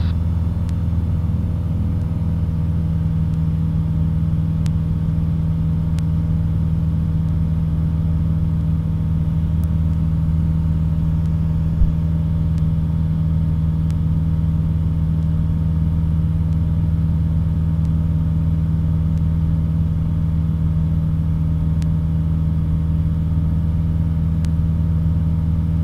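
A Rotax 914 aircraft engine holding steady at 65% power, 4,800 rpm, in flight: a loud, unbroken droning hum with a strong low tone and faint ticking, constant from start to finish.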